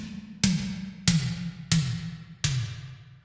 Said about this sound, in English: if I just open up Groove Agent, toms sound like this.